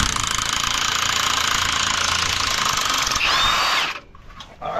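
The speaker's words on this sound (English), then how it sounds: "You gotta get a heavy duty impact cordless." A heavy-duty cordless impact wrench hammers steadily on a trailer brake bolt for about four seconds, loud and close, rising briefly before cutting off into quiet.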